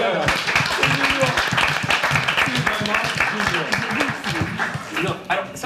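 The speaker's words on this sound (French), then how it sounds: "On peut applaudir les gars." A studio audience on a French talk show applauds, loud continuous clapping heard under lively talk and laughter from the hosts and guests.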